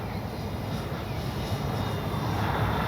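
Dynam DHC Beaver V2 radio-controlled plane at about half throttle, a steady droning electric motor and propeller whine held continuously at an even pitch, fairly loud and close, with wind rumble underneath.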